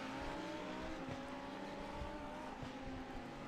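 Race cars at Spa's endurance event, including a Lamborghini, drone past at a distance, a steady engine whine with shifting pitch under constant track ambience, no voices.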